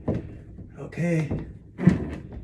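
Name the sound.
bi-fold door being swung behind bathroom door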